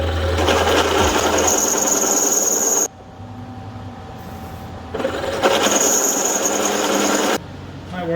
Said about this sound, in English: I went down a size in drill bit and it's not working much better